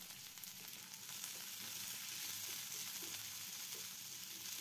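Chopped onion sautés in about two tablespoons of hot oil in a pan, a faint, steady hissing sizzle with soft occasional crackles, no voices.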